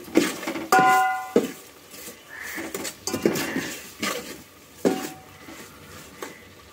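Salt being stirred into softened tomatoes, with scattered clinks and scrapes of a utensil against a metal pot, loud close taps spaced irregularly between quieter shuffling.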